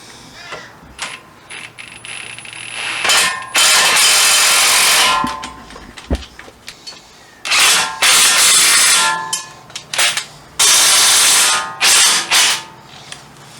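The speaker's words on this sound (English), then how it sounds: "when you tighten them up with impact, or you can just use a wrench" Wrench ratchet clicks in repeated bursts while brake caliper bolts on a 2018 Nissan Rogue are tightened during a rotor and pad job, with close, loud ratcheting spells separated by short pauses and small metallic knocks.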